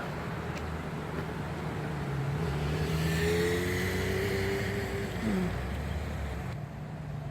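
Traffic moves along busy five-lane city streets, heard as a steady, distant wash of vehicle noise with a passing engine swelling and fading midway, no voices.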